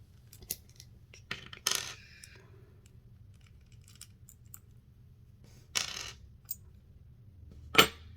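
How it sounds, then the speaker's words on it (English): Tiny screws are taken out of a Wahl corded clipper and dropped, giving sparse, faint metallic clicks and a few sharper clinks against a quiet background. "Take the screws off first."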